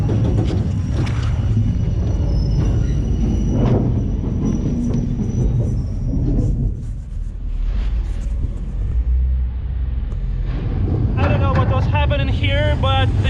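Rumbling ride aboard a Vietnamese passenger train rolling along the rails after leaving a yard, a steady loud low roar with clanks and a squealing whine near the end.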